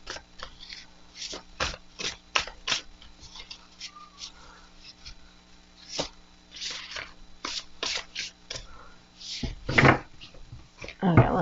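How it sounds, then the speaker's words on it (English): Hay House tarot deck of new cardstock being shuffled by hand, a steady run of crisp card riffles and taps, close and moderately loud, with a few soft murmurs. "let's shuffle."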